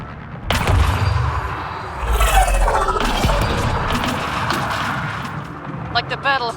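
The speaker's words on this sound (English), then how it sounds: "Incoming fire!" Gunfire and explosive booms from incoming fire in the sci-fi shooter Mass Effect Andromeda, loud and sustained over several seconds with rumbling impacts and crackling debris, mixed with voices and battle noise.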